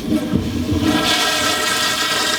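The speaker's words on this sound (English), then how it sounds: "Let me just flush this first." A toilet flushes loudly and close by, a continuous rushing gurgle of water that swells and holds steady throughout, with no talking.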